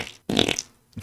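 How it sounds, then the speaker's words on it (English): A fart sound effect: a short, loud, sputtering burst lasting about half a second. Smaller puffs come just before and after it. "Creating 100 new fart sound effects."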